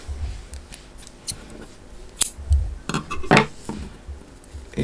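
Scissors snip through crochet yarn during work on a handmade bag, giving several short, close cuts with small rustles of handling and faint clinks between them, with no talking.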